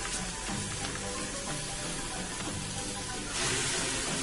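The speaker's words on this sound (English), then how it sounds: "I'm going to have to pull my pressure cooker pan out of here because this cabbage is frying" Cabbage leaves fry in the bottom of a pressure cooker pan after the cooking water is drained, giving a steady, hissing sizzle that swells louder near the end.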